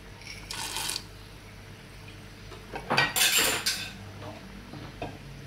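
Dried fava beans poured into a cooking pot holding lentils, for Moroccan rfissa, two short rattling bursts of beans hitting metal, the second louder, with light clinks between.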